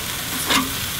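Chicken cordon bleu sizzling on a Char-Griller Akorn ceramic kamado grill, a steady dense hiss with one brief louder scrape midway as pieces are turned.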